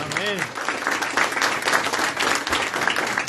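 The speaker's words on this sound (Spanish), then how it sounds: "Denle un aplauso al Señor." Applause ripples through a church audience praising the Lord, dense and sustained clapping with a brief voice heard near the start.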